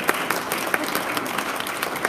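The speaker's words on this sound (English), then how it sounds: "Give him a round of applause." An audience at a church gathering gives a round of applause: steady, dense clapping at moderate volume, with a few sharper claps standing out now and then. No one speaks.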